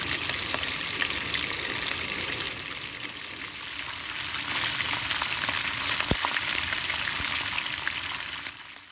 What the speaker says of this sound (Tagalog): magpiprito na rin tayo ng ating papartner na isdang tulingan